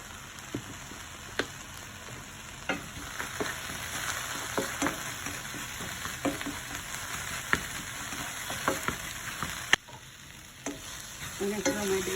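Bacon frying in a pan with a pinch of mild chili powder spice, a steady close sizzle with scattered pops and occasional stirring scrapes, no voices.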